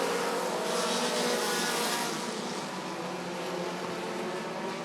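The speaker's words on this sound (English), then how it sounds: "as we are basically single file racing, as we got 10 laps to go left for Kyle Stark in that 192 Nissan." Race cars at Rockford Speedway, a short track oval, during the American Short Trackers feature, running single file; a continuous loud engine roar fills the clip, swelling slightly then easing as cars pass.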